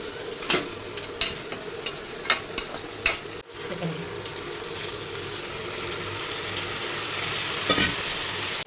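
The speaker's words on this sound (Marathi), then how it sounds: "मोठ्या गॅसवर आहे ना मस्त चिकन फ्राय होऊन द्यायचं" Chicken frying on high flame in a pan, a loud continuous sizzle broken early by several sharp scrapes of stirring, close up with no voices.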